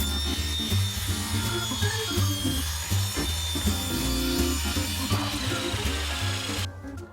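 Saw cutting wooden tabletop boards to equal length, a steady loud whirring drone with rhythmic pulses as each board passes through, ending abruptly as the blade stops.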